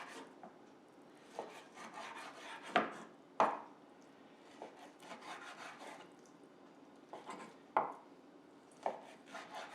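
A knife cuts food into half-inch cubes on a cutting board. Soft, irregular chopping and sliding strokes come close and fairly quiet, with a few sharper knocks where the blade strikes the board.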